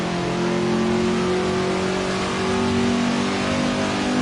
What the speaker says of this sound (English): Oh good, let's blow this engine up.